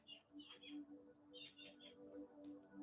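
Small birds chirp faintly outdoors, scattered high thin calls over a low steady background hum, distant and soft.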